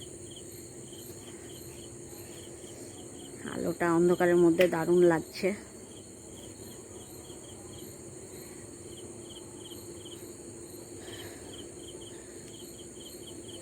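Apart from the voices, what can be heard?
crickets chirping on a dark night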